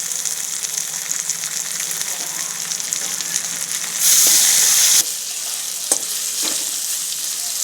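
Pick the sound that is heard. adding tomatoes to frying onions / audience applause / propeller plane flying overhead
adding tomatoes to frying onions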